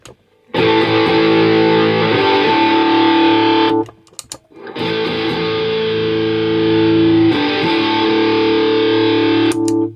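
Loud, heavily distorted electric guitar chords through an MCE Battlehammer or Rat distortion pedal ring out sustained, with a brief break near the middle before another long, thick, saturated chord.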